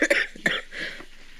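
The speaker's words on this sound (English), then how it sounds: "who would be coughing in the microphone if it's not your master right now?" Someone coughs into a microphone during a talk on Buddhist stories: several sharp, close coughs in quick succession, then a softer throat-clearing rasp.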